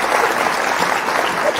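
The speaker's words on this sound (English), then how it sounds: "giving you a round of applause, Patricia" One person clapping steadily and rapidly in a round of applause over a Zoom call, close and fairly loud, without speech.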